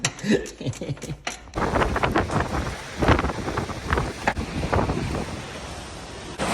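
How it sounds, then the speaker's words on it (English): Gusty wind buffets a microphone on a sailboat, rumbling in loud, uneven bursts that rise and fall throughout the moment. Brief talk is heard near the start. "Watch out, the wind's blowing right at you."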